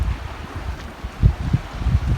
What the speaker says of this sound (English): the sound of the waves on this side